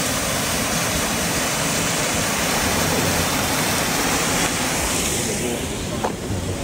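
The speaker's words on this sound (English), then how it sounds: "Here we've just got runoff." Water runoff flows steadily on Miyajima Island, a dense, continuous rushing wash that stays close and loud throughout, with no clear talking.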